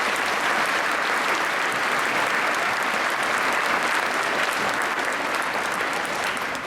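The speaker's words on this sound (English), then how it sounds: "Give yourself a round of applause" An audience at an evening eighth-grade graduation ceremony gives sustained, dense applause. The clapping stays loud and even for nearly seven seconds without talk.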